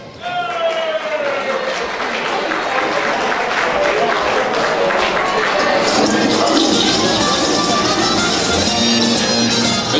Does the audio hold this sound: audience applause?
yes